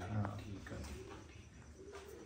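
Female pigeon cooing close by in a village loft, low soft hoots rising and falling under faint background noise.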